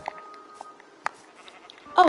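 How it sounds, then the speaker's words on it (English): A sheep in the Minecraft video game bleats in short, thin calls scattered across the moment, with a brighter, louder bleat at the end, over a quiet game background. "Oh, hi, Mr. Sheep."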